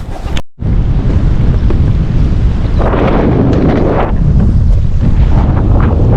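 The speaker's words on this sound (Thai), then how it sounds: "ขึ้นลมมาเต็มที่เลยครับ วันนี้" Strong wind on a squid-fishing boat at sea off Samaesan during a stormy spell buffets the microphone in a loud, steady roar, with gusts rising and falling and no voices.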